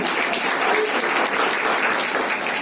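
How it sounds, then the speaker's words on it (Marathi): Sustained, dense applause from an audience at a women's business meeting in Badlapur, loud and steady throughout with no voices on top. "त्यांच्यासाठी टाळ्या होऊ दे."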